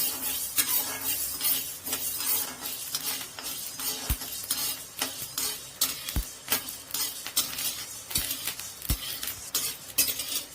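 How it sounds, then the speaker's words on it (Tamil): White sorghum grains dry-roasting in a pan: scattered sharp pops and crackles over a steady hiss, with several louder distinct pops and occasional light clinks and stirring, with no talking. "வெள்ளை சோளம் 250 கிராம் எடுத்திருக்கேன், அதையும் இப்போ பொரியட்டும். சோளம் பொரியும்."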